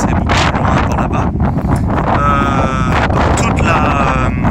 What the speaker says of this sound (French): sinon je pense que vous n'entendrez rien avec le vent